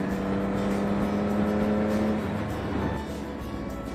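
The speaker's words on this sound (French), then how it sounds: "Bon, petite accélération au troisième." A Triumph 1050 Speed RS motorcycle accelerates in third gear, a steady loud engine drone with a rising tone that eases off near the end, heard alone without talk.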